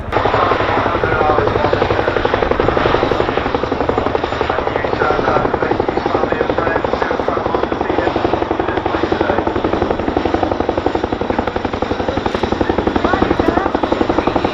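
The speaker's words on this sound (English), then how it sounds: "going to whip the aircraft around into a low-level 360-degree orbit, giving you the chance to really hear that sound of the aircraft" A Boeing Chinook tandem-rotor helicopter flies a low-level 360-degree orbit at an RAF Cosford airshow. Its loud, steady rotor chop and engine whine hold close and constant throughout.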